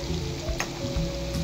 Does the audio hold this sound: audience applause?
no